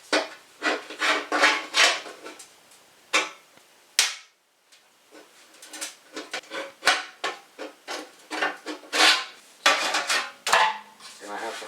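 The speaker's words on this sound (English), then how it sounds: "for this I'm going to be using green snips" Green tin snips cutting through thin metal woodstove pipe, giving a rapid series of sharp metallic snips and crunches with short pauses, close and fairly loud.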